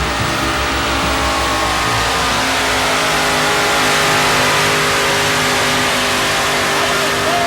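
A pulling truck with a big-block 670-cubic-inch mountain motor at a truck and tractor pull, a loud, constant roaring rev that stays near and dense throughout.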